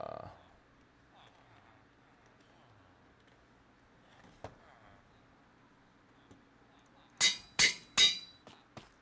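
An anvil is placed in the Minecraft video game, a few sharp metallic clanks near the end after a quiet stretch with faint talk.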